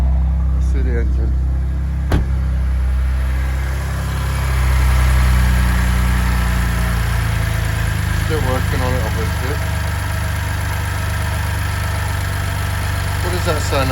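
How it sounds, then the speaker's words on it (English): A BMW engine idles after a cold start with fresh oil, a steady low rumble running throughout while someone talks over it. "So guys, just starting up the Beamer."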